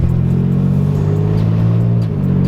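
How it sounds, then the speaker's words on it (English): Nissan 300ZX engine idling close by, its all-stock exhaust carrying rotted-out mufflers, giving a steady low, throaty rumble with a slight dip in pitch near the end. "the mufflers just rotted right out. Sounds a little exhausty"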